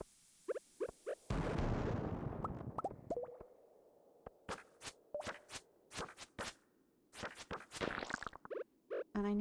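A small bomb bursts in a cozy farming video game, a loud close blast with a noisy decaying tail, followed by scattered short pops and clicks of game sounds.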